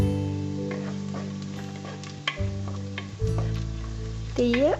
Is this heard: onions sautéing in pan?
yes